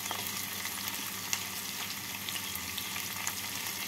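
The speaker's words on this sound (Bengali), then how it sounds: "কাঁচা লঙ্কা কুচিটাকে নেড়ে নেব।" Chopped green chillies fry in a pan with a dense, even sizzle that holds steady throughout, and faint stirring scrapes show up now and then.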